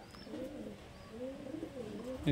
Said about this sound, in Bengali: এই হচ্ছে পাগলা লাইনের পায়রা